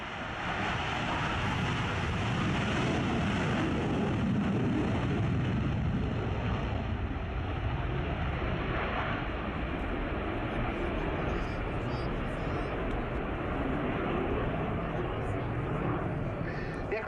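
A Belgian Air Component F-16AM Fighting Falcon flies an air display, its jet engine a steady, loud broadband roar that holds throughout with some wind buffeting, as a commentator talks over it.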